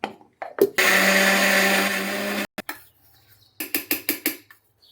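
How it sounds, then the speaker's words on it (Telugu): Mixer grinder grinding soaked urad dal into batter, a loud whirring motor burst lasting about two seconds, followed by several short pulsed bursts, with clicks and handling noises between. "ఇప్పుడైతే మిక్సీ చేసేసుకుందాం మనం"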